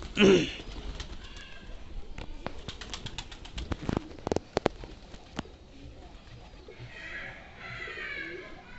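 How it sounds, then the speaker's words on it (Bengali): Soft cooing of local Bangla domestic pigeons on a farm amid light fluttering and scattered taps and clicks, with a brief louder rustle at the start. "কবুতরের বাংলা কবুতর, কিন্তু ডাক খুব সুন্দর"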